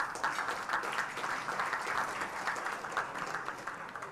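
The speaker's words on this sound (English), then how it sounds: "Another round of applause" Moderate applause from a seated crowd at an awards and scholarship luncheon, continuous clapping of many hands at a medium distance.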